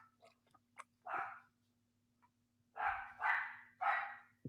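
A dog barks in short, separate bursts: a single yap, a pause, then three quick barks in a row. The barks sit close and clear over a faint, steady hum.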